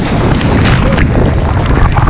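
Strong wind roars and buffets the microphone continuously on the coast during winter sea bass fishing, a loud, dense rush with no pauses.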